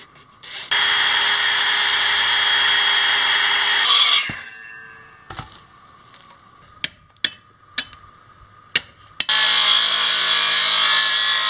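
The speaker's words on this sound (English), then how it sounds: "Side sander." A side sander grinds loudly on a rusty old axe head in two long steady passes, separated by a quieter gap holding a series of sharp knocks and taps.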